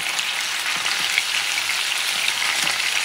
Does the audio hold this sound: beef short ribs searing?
yes